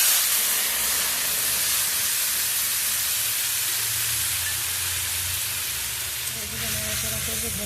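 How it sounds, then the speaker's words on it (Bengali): Mustard paste hits hot mustard oil in a wok over five-spice seeds, giving a loud, steady sizzle and hiss that runs unbroken throughout. "আর আমি একটু সর্ষে বাটা দিয়ে দেবো।"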